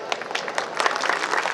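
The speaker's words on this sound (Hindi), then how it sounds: "जोरदार तालियों के साथ स्वागत कीजिए।" A large gathered crowd at a Hindi speech event claps to welcome the speaker, a short burst of uneven, fairly close hand claps that thickens slightly toward the end.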